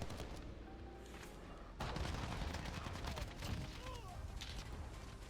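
An AK rifle fires in rapid, crackling bursts in Call of Duty on the Caldera map, fairly faint and mixed with other gunfire while someone talks over it.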